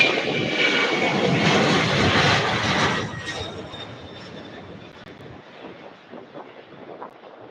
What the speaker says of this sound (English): That is our flight out to Omaha, Nebraska. UPS 767-300.